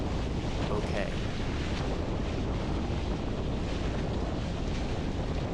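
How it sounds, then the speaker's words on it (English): Strong wind roars and buffets continuously across the microphone while sailing an F28 boat, a dense broadband rush with faint water sounds beneath it. "it's a little windier than I thought"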